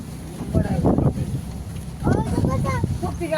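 Strong wind gusts roar steadily as a family travels by car from a Satara village toward Mumbai, with rain arriving; a low, continuous rumble sits under fairly loud conversation throughout.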